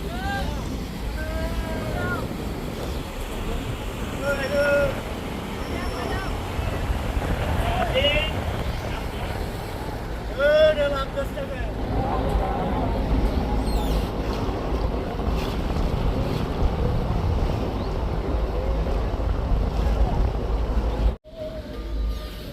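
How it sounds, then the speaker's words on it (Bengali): A passenger launch travels along a river in Bangladesh toward Narayanganj, its steady engine drone and rushing water and wind noise running continuously and fairly loud, with occasional voices and horn-like tones faintly in the background. "তো এই লঞ্চটি এখন নারায়ণগঞ্জ যাচ্ছে, রামচন্দ্রপুর থেকে ছেড়েছে।"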